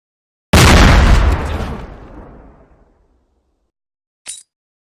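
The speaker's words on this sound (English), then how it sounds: "Grenade!" A grenade explodes in the video game Line of Sight, a single loud close boom that decays over about two seconds into a rumbling tail, followed after a pause by a short, sharp high click.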